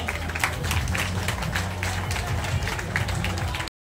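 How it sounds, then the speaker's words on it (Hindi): Lively audience applause at the closing of a community service camp, dense rapid clapping with some crowd murmur underneath, steady and fairly close before cutting off abruptly. "जोरदार ताली बजाइए।"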